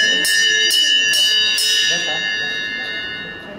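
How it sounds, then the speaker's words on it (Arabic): A trading bell marks the end of a trading session, four quick ringing strikes followed by a lingering metallic decay, loud and close, with people talking underneath. "نقرا جرس التداول نهايه التداول"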